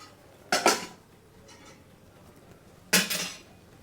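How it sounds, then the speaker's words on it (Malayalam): Two sharp metallic clanks of a lid set onto a pot of semi-gravy egg curry being covered to simmer, each with a brief ringing tail, about two seconds apart against quiet room tone. "അപ്പോൾ മൂടി വെച്ച് വേവിക്കാം"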